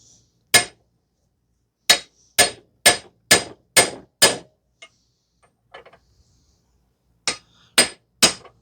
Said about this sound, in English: So we're going to continue to hammer this out.